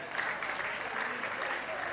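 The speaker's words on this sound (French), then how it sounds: "Vos applaudissements pour cet homme." Wedding guests clap together at a reception, a steady wash of applause lasting a couple of seconds at moderate distance.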